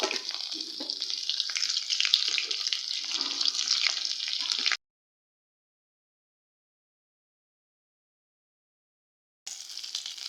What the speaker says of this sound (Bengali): যে ফুলকপিটা আমি ভাপিয়ে রেখেছিলাম সেই ফুলকপিটা দিয়ে দিচ্ছি ভাজার জন্য